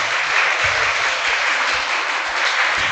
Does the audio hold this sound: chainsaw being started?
no